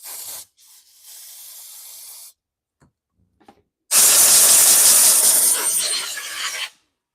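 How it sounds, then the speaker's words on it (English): Carb cleaner sprays onto the tank vent of a backpack blower in two hissing bursts: a short, moderate spray, then after a pause with small clicks, a longer, louder close-up spray. "I'm going to shoot some carb cleaner on it and blow that off."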